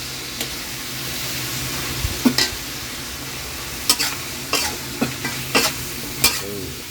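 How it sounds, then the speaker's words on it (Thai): Mixed vegetables and shrimp stir-fried in roasted chili oil: a steady sizzle underlies a series of sharp spatula scrapes and clacks against the pan, coming in irregular strokes, close and fairly loud, with no talking. "เราไม่ต้องผัด นานนะฮะ"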